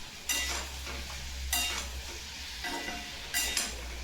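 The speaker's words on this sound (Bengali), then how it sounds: "পেঁয়াজগুলিটা আমি ভাজছি" Onions fry in a pan with a soft, continuous sizzle close by, broken by three short bursts of stirring and scraping, over a low steady hum and without any talking.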